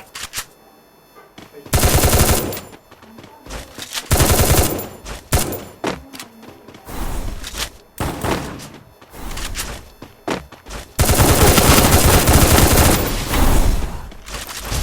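Rapid bursts of automatic gunfire and single shots from the Free Fire battle game, loud and repeated in several dense volleys with short gaps, mixed with brief thuds and excited shouting.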